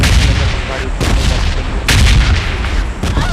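Gunfire in the mobile video game PUBG Mobile Lite: loud, booming shots crack out at intervals over a dense continuous rumble of battle noise, with no talk.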